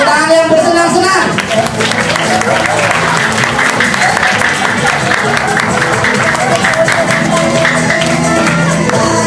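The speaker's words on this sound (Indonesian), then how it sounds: "Tepuk tangan yang bersenang-senang." A crowd of elementary schoolchildren on a school religious outing claps together loudly and steadily for several seconds, dense and close, with children's voices and shouting mixed into the applause.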